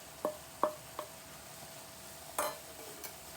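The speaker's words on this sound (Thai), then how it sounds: "ผัดให้โปรตีนสุกจนทั่ว แล้วจึงนำดอกขจรมาผัดรวมกัน พร้อมกับพริกสด" Vegetarian protein stir-fries with khajorn flowers and fresh chili over a faint background sizzle, punctuated by five or six sharp metallic spatula taps against the pan, close and distinct.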